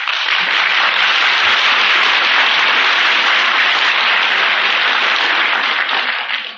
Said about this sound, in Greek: Ότα χειροκροτήματά σας